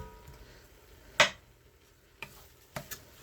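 Onions, celery and leeks cook in a pan, with a faint, quiet sizzle underneath a few sharp utensil taps and scrapes, one louder clack standing out among the softer knocks.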